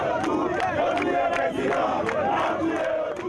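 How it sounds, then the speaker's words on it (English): An angry crowd shouts outside a police station in Port-au-Prince, many voices raised in loud overlapping cries and chants with sharp bursts, close and continuous. "an angry crowd gathered, demanding the suspects be turned over to them"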